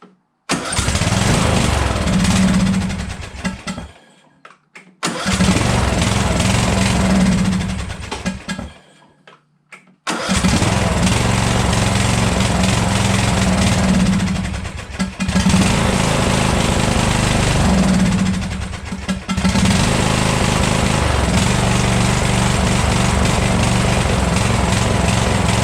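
A Briggs engine on a broken lawn tractor starts after carb priming and choke, cutting out twice before running steadily; the close, loud mower-like drone pulses slightly, with faint ticking throughout.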